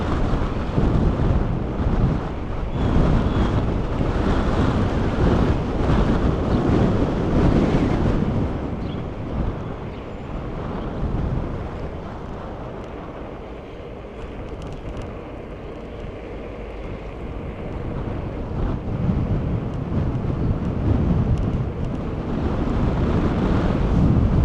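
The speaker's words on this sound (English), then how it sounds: "Very windy out here, even though the sun's out." Strong wind buffets the microphone outdoors near Central Park West in New York City on a sunny day, a steady loud roaring rush that swells, eases in the middle, then builds again, with no talking.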